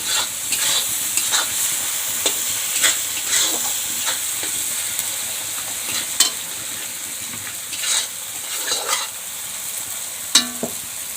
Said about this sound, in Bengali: এখন আমি টমেটোটা ভালোভাবে মশলার সাথে কষিয়ে নেব।